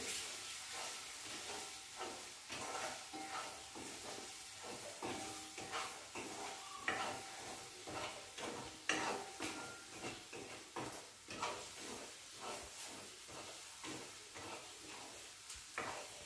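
Homemade masala and turmeric fry in hot oil, producing a faint, steady sizzle broken by irregular crackles and soft stirring scrapes, heard quietly with no one speaking.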